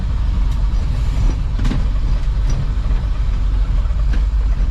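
A car engine drones loud and steady from inside the vehicle as it accelerates and shifts from first into second gear, a dense low rumble with no speech.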